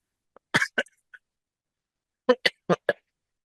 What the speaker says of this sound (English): I've got a bad cough now.